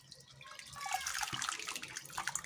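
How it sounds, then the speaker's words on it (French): Hibiscus (bissap) juice poured through a strainer, a soft, close liquid splashing and trickling that swells slightly over a couple of seconds, with no voices. "Je verse encore sur la passoire."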